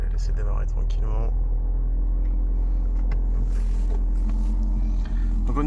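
A Ford Focus RS Mk3 engine turns over and settles into a steady, low idle, with a constant rumble throughout and brief clicks near the start.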